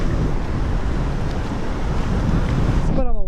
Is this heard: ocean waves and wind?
yes